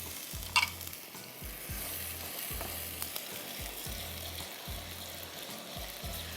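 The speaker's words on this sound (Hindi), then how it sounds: "सिर्फ हमने इसको चॉप किया, प्याज को डाल दिया, अदरक लहसुन 1 खाने का चम्मच भर के" Chopped onion with a spoonful of ginger-garlic paste frying in a pan, a faint steady sizzle with a sharp clink early on, a low rhythmic thumping running underneath.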